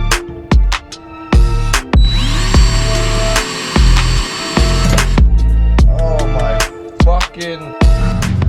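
Loud power drill bursts on and off, boring holes for a steering rack mount on a car, with short whines separated by pauses and clanks of metal.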